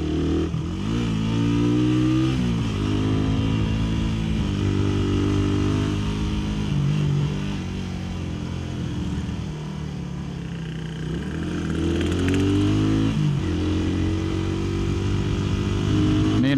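A Suzuki Satria FU DOHC motorcycle engine revs hard while climbing a long uphill, holding around 7,000 RPM. It drones loudly and continuously with rising and falling pitch as the throttle is held and shifted.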